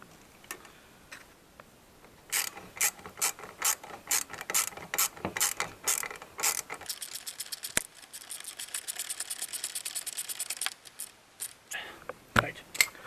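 Ratchet tightening a bolt on an air intake bracket at the airbox of an Alfa Romeo Giulietta 1750 TBI QV during a cold air induction kit install, heard as bursts of close, crisp clicking strokes with brief pauses, then a faster continuous run.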